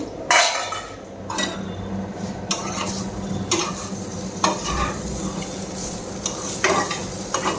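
Bitter gourd fries in a pan with a continuous sizzle, while a utensil stirs and scrapes it, clinking against the metal at intervals.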